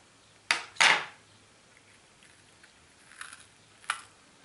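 A knife slits a cut section of branch lengthwise while making a bird whistle. A few sharp cutting and scraping sounds come close up, two in quick succession and then two more a few seconds later, in near quiet.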